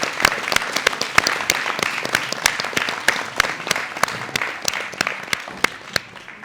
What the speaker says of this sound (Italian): Ultimo applauso della serata